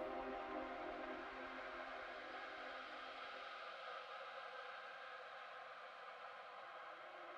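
A shimmer reverb tail pitched up one octave with modulation at maximum, the dry input removed, leaves a faint, steady airy wash with sustained high tonal bands that slowly thins out over several seconds, with no voice present.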